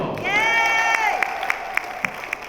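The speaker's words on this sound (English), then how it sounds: "So give him a round of applause." Audience applause at a community forum on stopping gun violence, clapping and cheering mixed with a whooping voice at first, then thinning to distinct, spaced claps toward the end.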